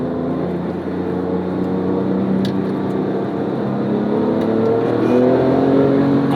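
A 2008 Porsche 911 GT2 (997) with its turbocharged engine drones steadily from inside the cabin during downshifts, a loud continuous low engine hum with the pitch rising gradually toward the end.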